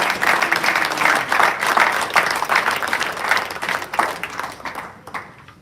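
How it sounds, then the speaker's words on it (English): An audience at a National Honor Society induction ceremony gives a sustained round of applause. Many hands clap in a dense, uneven patter that swells and then gradually thins out toward the end, with no speech over it. "if we could do a round of applause, please welcome our Dean of Academics, Dr. Reedy"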